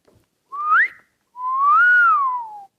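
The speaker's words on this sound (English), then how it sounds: "whistles between her teeth," A woman whistles between her teeth at a convention actors' event, giving two clear, close whistles: a short rising note, then a longer tone that swells and slowly falls, with silence around them.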